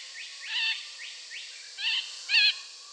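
Long-tailed parakeets of the endemic Andaman subspecies give several harsh, chirping calls in short bursts, the loudest near the end, with no talking.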